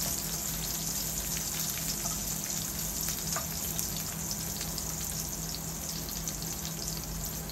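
Sliced onions frying in hot oil in a pan, giving a steady, moderately loud sizzle with fine crackling that holds evenly from start to finish.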